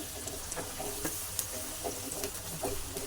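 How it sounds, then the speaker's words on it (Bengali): Onions fry in a pan until browned, giving a steady close sizzle broken by soft scrapes and taps of stirring, with no talk. "পেঁয়াজটা আমি একটু বাদামি করে ভেজে নেব"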